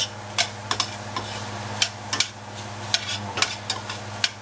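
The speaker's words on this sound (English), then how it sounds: "as mushrooms cook, they release a lot of liquid. And that liquid in there is what's deglazing this pan right now" Mushrooms sizzle in a pan as their released liquid deglazes it while cooking for beef shanks in burgundy, a soft frying hiss punctuated by a dozen or so sharp, irregular clicks of a utensil against the pan, with no voices.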